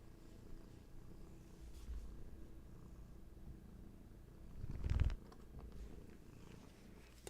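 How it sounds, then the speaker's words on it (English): A cat named Hattie purrs softly and continuously close by, a low rumbling drone with a slightly louder swell near the end. "You might hear some Hattie purrs."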